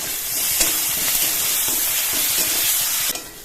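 Ginger-garlic paste fries in a pan with onions, making a continuous close sizzle broken by a few soft stirring scrapes and clicks, with no talking.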